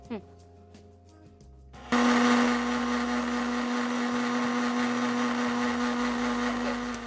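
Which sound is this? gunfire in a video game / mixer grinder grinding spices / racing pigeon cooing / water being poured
mixer grinder grinding spices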